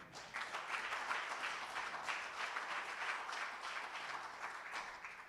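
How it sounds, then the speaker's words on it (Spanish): A church congregation applauds during a Spanish-language worship service, steady dense clapping from many hands sustained throughout, moderately distant and fairly quiet, with no talk over it. "Vamos a darle un aplauso al Señor."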